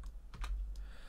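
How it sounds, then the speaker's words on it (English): A few quick, clacky keystrokes on a loud computer keyboard, close to the microphone over a low rumbling background, lasting about a second with no talking. "Sorry if my keyboard is loud."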